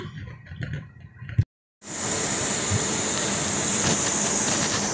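Steam hisses from the release valve of a pressure canner heating roast beef over a gas flame. After a short moment of silence, a loud, steady, high-pitched hiss starts and holds constant.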